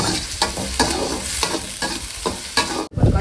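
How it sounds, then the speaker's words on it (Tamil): Steady loud sizzling of onions sautéing in a pan, with rhythmic scrapes of stirring repeating roughly every half second, then a brief pause. "வெங்காயம் நல்லா வதங்கிச்சு"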